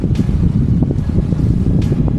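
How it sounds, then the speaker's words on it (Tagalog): Strong wind at Atanacia Beach Park buffets the microphone in a loud, continuous rumbling roar during a possible storm, with occasional gusts and a faint wash of surf underneath. "Malakas pa rin ang hangin"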